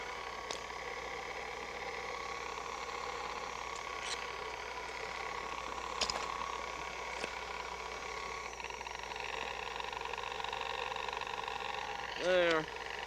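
An electric meat grinder grinds fish for quenelles in a kitchen, its motor giving a steady, even drone throughout, with a brief voice near the end.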